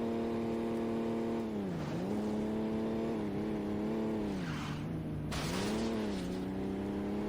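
A car drives in the video game Saints Row, its engine holding a loud steady tone that dips and climbs with gear changes and throttle, with a brief tire-like hiss near the end and no talk.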